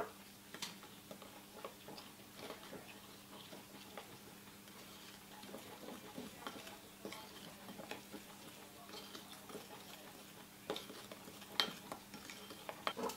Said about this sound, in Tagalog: 1 tablespoon muna ng ating milk. Kung walang milk, pwede ding water. And haluin lang natin.